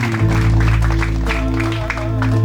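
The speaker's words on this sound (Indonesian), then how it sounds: "Mari beri tepuk tangan Bapak Ibu" Guests at a wedding reception clap together, a burst of scattered hand claps sitting over a loud, steady low hum from the sound system, with no voices on top.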